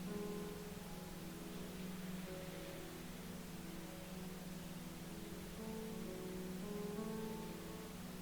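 A continuous pink noise ambient wash hums quietly and evenly throughout, layered with soft held tonal notes that shift slowly underneath.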